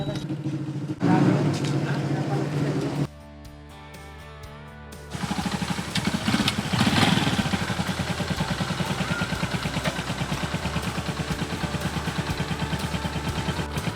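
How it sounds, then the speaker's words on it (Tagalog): A newly bought motorcycle for farm use runs with a steady, rhythmic engine putter through the second half, following a stretch of mixed noise and a brief quieter gap. "andito na yung ating bagong motor"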